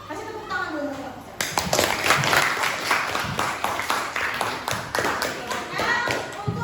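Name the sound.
class applauding for group 1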